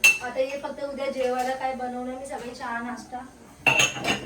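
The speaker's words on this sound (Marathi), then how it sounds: "सर्व भांडे आम्ही याच्यामध्ये टाकले" Metal kitchen utensils clink and clatter as they are packed into a container for moving house, with a voice talking over most of it and a louder rattle at the end.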